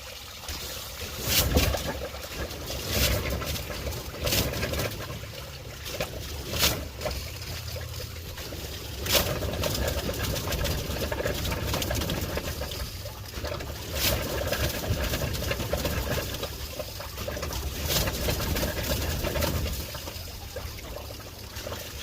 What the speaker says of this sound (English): I'll send through short bursts of air, and it'll help pressurize that water, and you'll hear it